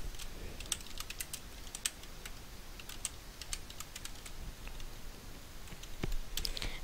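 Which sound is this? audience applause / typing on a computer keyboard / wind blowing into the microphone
typing on a computer keyboard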